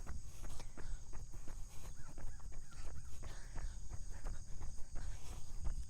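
Steady high-pitched insect chirping runs throughout, with soft scattered steps and rustles underneath in a quiet outdoor setting.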